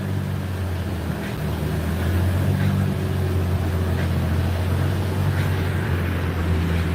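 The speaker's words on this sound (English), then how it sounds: "There's the dyno. Outdoor dyno." A car engine runs on an outdoor dyno, a steady, loud, low drone holding constant throughout with wind rushing across the microphone.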